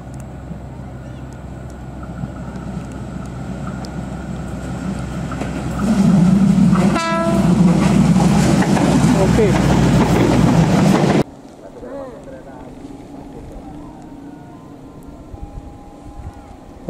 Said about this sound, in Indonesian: Kereta KAIS 3.